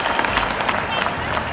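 A stadium audience at an indoor venue in Kolkata bursts into brief, close applause, a dense patter of clapping lasting under two seconds.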